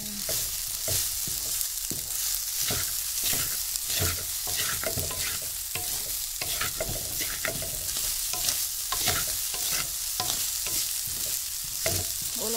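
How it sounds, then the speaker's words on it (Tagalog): Leftover rice with garlic sizzles steadily in a hot pan while a utensil stirs and scrapes in irregular bursts, close and continuous with no talking. "Ginisang kanin."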